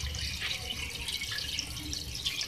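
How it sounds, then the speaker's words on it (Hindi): Water is poured from a glass into a cooking pot of beef and spinach, splashing and trickling with small dripping sounds at moderate closeness, alone and without talk. "2 ग्लास इसके अंदर पानी शामिल कर रही हूँ"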